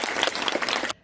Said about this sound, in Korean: 다시 한번 박수로 환영해 주시면 감사하겠습니다